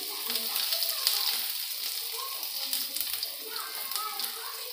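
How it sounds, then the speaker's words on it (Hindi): Chopped onion tossed into hot oil with cumin seeds, producing a steady bright hiss of frying that carries on evenly, with a faint voice underneath. "अब हम ऑयल में सबसे पहले डाल देंगे थोड़ा सा ज़ीरा, और ज़ीरा जो है कलर चेंज नहीं होना चाहिए। हम इसमें डाल देंगे प्याज भी"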